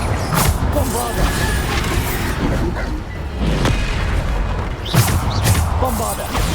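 Bombarda spell explosions in the Hogwarts Legacy video game: heavy booming blasts and crashing debris in a dense combat soundscape, with bursts near the start and again around the five-second mark.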